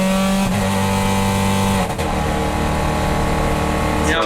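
A race car engine idles and runs steadily at an endurance race at COTA, running cold with throttle limitation, a close, constant drone with a brief dip near the middle and a rising rev at the end.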